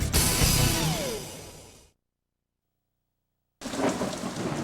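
Rain pours with a deep rumble of thunder for about two seconds, then drops to dead silence before the storm sound returns, loud and close; a stock sound effect for a bank commercial.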